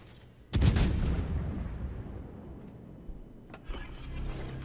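Naval gunfire in World of Warships: a sudden loud boom from a warship battery followed by a long rumbling decay, with a couple of fainter distant thuds later.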